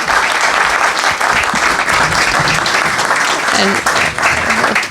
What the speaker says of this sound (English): Now we can give them a round of applause and welcome.